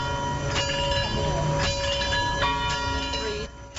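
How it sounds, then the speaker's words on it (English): Bells toll in Memphis for Martin Luther King Jr., struck repeatedly in a slow, ringing sequence with layered tones over a steady background hum. "The bells chime 39 times, once for each of the years Dr. King lived"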